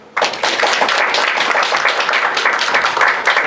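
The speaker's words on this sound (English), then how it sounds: "let's welcome our third speaker with a warm applause" A conference audience breaks into a warm round of applause welcoming the third speaker at a talk on AI in speech and language pathology, dense steady clapping starting abruptly and filling the room.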